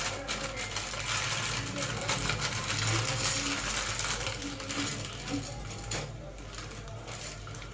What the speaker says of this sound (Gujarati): મેગી તોડશું આપણે.